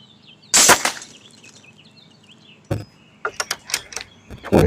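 JTS Aircuda Max air rifle in .25 caliber fired at steel targets, a sharp crack followed later by a cluster of quick metallic pings and clicks, close and crisp against a quiet background.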